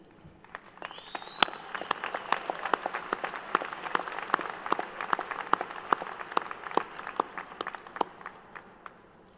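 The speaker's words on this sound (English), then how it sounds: "Let's applaud what they've done" A commencement audience applauds, with scattered individual claps building into a lively round that continues steadily for several seconds.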